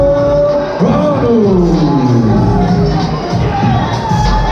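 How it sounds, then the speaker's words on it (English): Crowd cheering and shouting at an Ultra MMA fight in London, a loud continuous roar as the winner in the red corner is announced, with an announcer's amplified voice over it. "cheering for your women in the red corner, Valentin"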